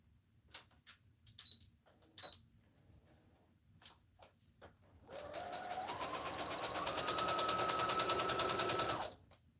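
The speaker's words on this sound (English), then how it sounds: "Let me do the straight stitch right quick." A sewing machine runs a straight stitch, a steady fast mechanical whir that starts after several seconds of light handling clicks and taps, rises slightly in pitch, holds for about four seconds, then stops abruptly.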